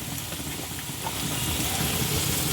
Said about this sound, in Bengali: ধনে গুঁড়ো দিয়ে ভালো করে আবার ভেজে নেব